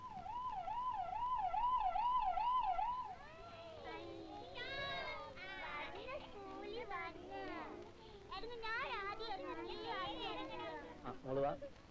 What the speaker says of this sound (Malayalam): അത് ആംബുലൻസ്. കയ്യും കാലും മുറിഞ്ഞവരും മരിച്ചു പോയവരും കൊണ്ടുപോകുന്ന വണ്ടി.